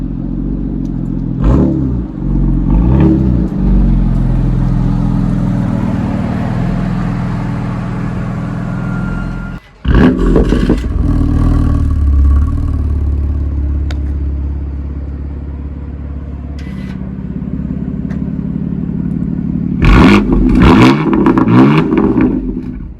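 A Stage 2 BMW M3 F80 making about 560 hp revs hard for a sustained, loud stretch of exhaust roar, with sharp blips and a brief drop partway through and more throttle stabs near the end.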